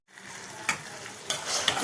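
Raw plantain sautéing in a pan gives off a steady close sizzle, with a couple of brief stirring scrapes over the hiss.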